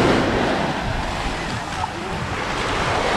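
Surf breaks on the sunny beach at Es Canar, a continuous broad wash of waves close by, mixed with wind buffeting the microphone and steady throughout.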